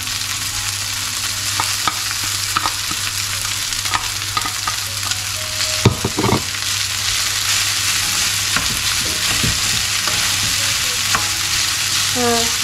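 Shrimp frying in a pan, a steady loud sizzle with intermittent utensil scrapes and clinks across the whole span, a low hum beneath and no talk.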